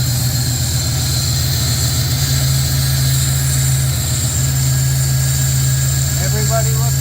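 A 1966 Pontiac Catalina wagon's engine idles steadily just after starting, a continuous low rumble running throughout at close range, with a brief rattle of other noise near the end.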